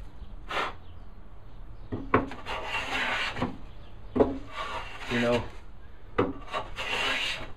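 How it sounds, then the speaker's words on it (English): Hand sanding of hardwood for a plant stand, a dry rasping rub repeated in several uneven strokes at close range, each burst rising and fading with short pauses between. "sanding is definitely not your favorite thing"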